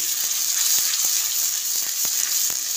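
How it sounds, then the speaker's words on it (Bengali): Spices stir-frying in oil with browned onions for a chickpea, potato and egg curry, a steady close sizzle with a few soft scraping stirs of a spatula, no talking. "মশলাটা দিয়ে ভালো করে কষতে হবে।"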